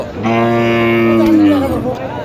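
A cow at a busy cattle market gives one long, loud, close moo that swells and then tapers off, with faint crowd noise around it.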